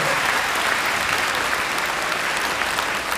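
Middle school students clap together in a school assembly, a dense, steady burst of applause lasting about three seconds with no talking.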